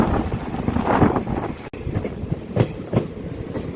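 A train's general coach rolls over a bridge near Baiguda station on the Rayagada to Koraput line, with rhythmic wheel clicks and rumble over wind noise, heard from inside the carriage.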